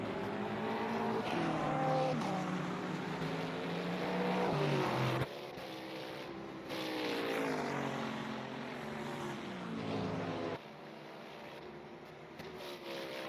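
GT3 race cars, including a Ferrari and a Mercedes, roaring around the Bathurst circuit in a racing game, with sustained engine drones rising and falling in pitch as cars pass and shift, cutting abruptly between viewpoints.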